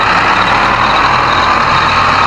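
HMT 5911 tractor engine labouring loudly and steadily while pulling an overturned trolley to the right, a dense continuous drone with no voices.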